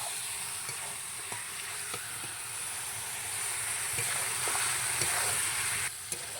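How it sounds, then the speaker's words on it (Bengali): Chicken curry sizzles steadily in a pan as it is stirred and sautéed, a continuous close frying hiss broken by occasional soft scrapes and taps of the spoon. "এবার এটাকে ভালো করে কষিয়ে নিতে হবে।"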